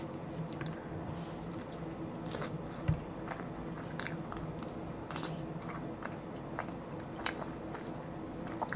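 Someone eating Domino's Black Tiger shrimp pizza with garlic dipping sauce, close-up bites and wet, squishy chewing with occasional crisp crunches, repeating steadily with no talking.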